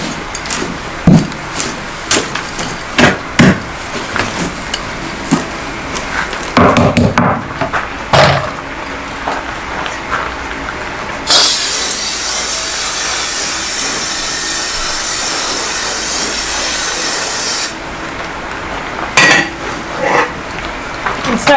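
Potting soil being wetted and mixed by hand for seed propagation trays: scraping, scratching and rustling, with a spell of steady water spray partway through, close and fairly loud.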